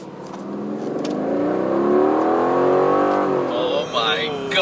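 An Aston Martin's engine revs loudly nearby, its pitch climbing and falling in a sustained throaty roar, with an excited voice exclaiming over it.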